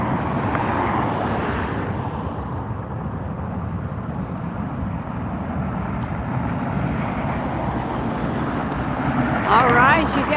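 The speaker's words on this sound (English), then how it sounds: "Listen to the rumble of those engines." Jet engines of an Aer Lingus airliner rumble steadily on a runway at LAX, a continuous low roar filling the whole stretch, with a brief higher whine rising near the end.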